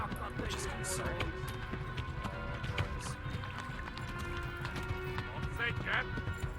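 A horse gallops in the medieval video game Kingdom Come: Deliverance, with rapid, steady hoofbeats throughout and faint voices and game sounds underneath.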